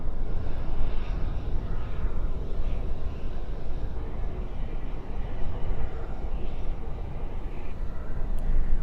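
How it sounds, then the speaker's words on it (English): An Air Canada Cargo plane departs Dallas/Fort Worth at night, its jet engines giving a steady, loud broadband roar with a deep rumble that persists evenly throughout. "Air Canada Cargo, the rocket departing there on the east side"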